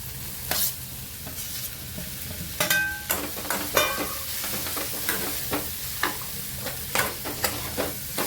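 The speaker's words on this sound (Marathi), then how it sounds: "त्यानंतर परतून घेऊ यामध्ये शिमला मिरची आपण भाजून आहे ती घालून घेऊ" Capsicum sizzles in a pan with coriander-cumin powder while a spatula scrapes and stirs it in repeated sharp strokes over a steady close frying hiss.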